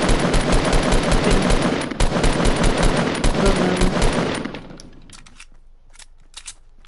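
Rapid automatic gunfire in the Fortnite battle royale game sprays down an enemy, a loud dense burst of shots lasting about four seconds, then trailing off into a few scattered faint pops.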